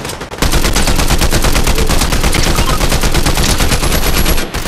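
Rapid automatic gunfire in Fortnite Zero Build, a loud, close, unbroken stream of evenly spaced shots lasting several seconds before cutting off.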